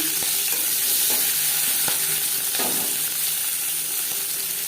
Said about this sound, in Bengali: মাছ ভেজে নেওয়া কড়াইতে আবারও তেল দিয়েছি, দিয়ে দেবো পেঁয়াজ কুচি